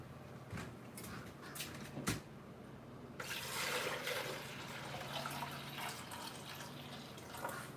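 Fresh water runs from a tap into a container, a broadband rushing pour starting partway through and continuing steadily at moderate level after a few faint knocks and clinks.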